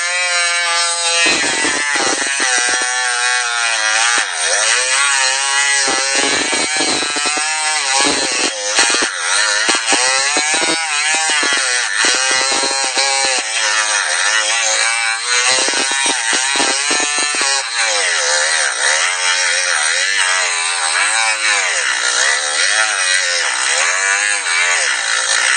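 A battery-powered tool whines steadily as its battery runs low, the pitch wobbling and sagging, with repeated short bursts of higher buzzing as the motor strains, loud and close throughout.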